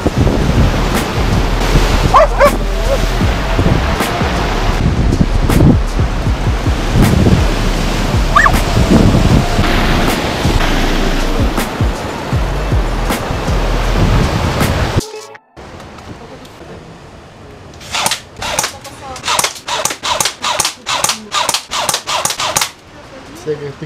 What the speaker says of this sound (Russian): Собаки с волнами играют.